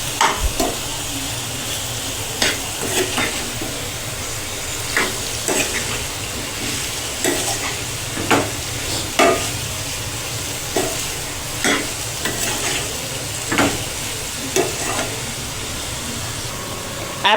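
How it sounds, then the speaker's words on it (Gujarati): Potatoes and chili sizzle gently in a pan over medium-low heat while a spoon stirs and scrapes at irregular intervals, producing sharp clinks over a steady frying hiss. "આપણે તેને હલાવીને આ રીતે મિક્સ કરી લઈશું."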